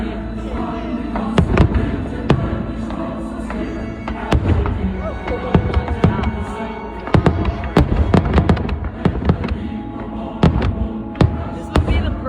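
Fireworks burst at a large outdoor show billed as America's biggest, with a steady stream of loud, close booms and cracks over a continuous rumbling hum. Voices can be heard faintly now and then.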